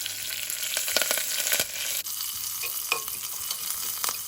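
Cumin and mustard seeds sizzle and pop in hot oil with garlic and curry leaves, a continuous crackling hiss with sharp little spits, close by and with no talking.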